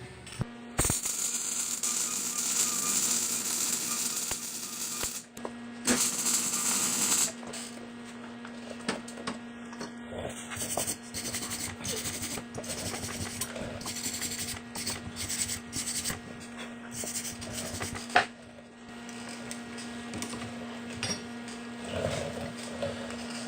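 Steady crackling and buzzing of arc welding on a mini bike muffler, a continuous sizzle with brief breaks and some clanks, close by, no talking.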